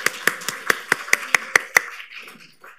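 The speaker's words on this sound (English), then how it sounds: "We can give them a round of applause." Several people in a museum talk audience clap in a sparse, rhythmic run of about eight sharp, close claps that fade out, sounding like a small group rather than a full crowd.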